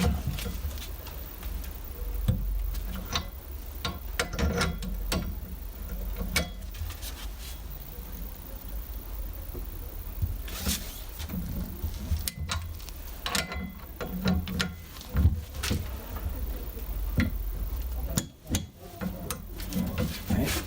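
A torque wrench clicks and ratchets while tightening the front brake disc bolts on a Rover P5B, with sharp metallic ticks scattered over a steady mechanical background.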